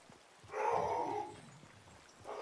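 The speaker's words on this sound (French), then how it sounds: "Désolé, ça c'est mes chiens." Dogs bark in the background of a Fortnite game stream, one burst of barking with a yip-like edge, fairly close and moderately loud, then trailing off into quieter room noise.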